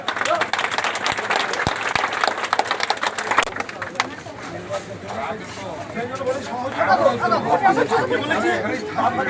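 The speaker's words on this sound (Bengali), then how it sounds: "হাততালি দাও হাততালি দাও" A crowd at a public inauguration of health sub-centres in Manteswar block breaks into brisk, dense applause that gradually gives way to crowd chatter, with voices talking throughout.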